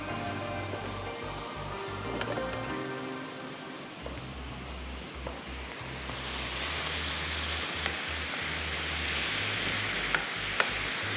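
Egg tawa masala sizzles steadily in a pan while a spoon stirs it with intermittent scraping strokes, the frying hiss rising and growing louder toward the end, with no talking.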